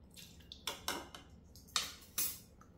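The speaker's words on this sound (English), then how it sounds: "I'm gonna really mix this up good in this to dissolve it" A utensil scraping and clinking against the sides of a small cup while guar gum is stirred into 91% alcohol, several sharp irregular taps and clicks close up.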